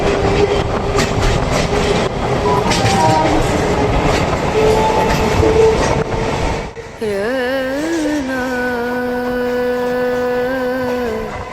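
A Sonarpur to Baruipur local train rumbles steadily along the rails with rattling wheel noise, then a long, loud horn blast sounds and holds to the end.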